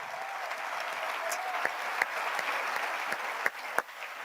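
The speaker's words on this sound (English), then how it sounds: "round of applause for our public officials" An audience applauding public officials at a Cleveland WNBA team-name announcement: dense, even clapping held at a steady level, with a few sharper individual claps standing out.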